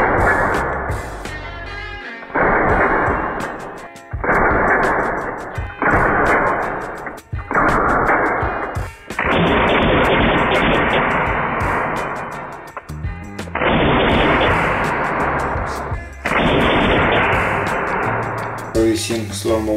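Beretta M92 airsoft pistol firing with a green gas blowback system, ASG make, giving about eight sharp, loud, separate shots at irregular gaps, each followed by a short mechanical clack.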